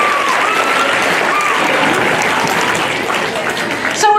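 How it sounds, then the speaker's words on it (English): Loud, steady audience applause for a small house band at a celebration event, dense clapping that carries on throughout and breaks off abruptly at the end. "Let's give them another round of applause."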